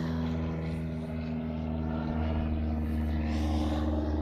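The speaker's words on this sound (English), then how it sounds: "Hi there, plane, how you doing?" A propeller plane passing overhead near an airfield, a steady droning engine hum with strong low tones that swells slightly as it goes by, alone with no talk.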